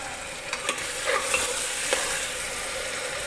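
Dudh korma roasting in a pan: a close, steady sizzle with a few light scraping stirs and small pops over a few seconds, without any voices.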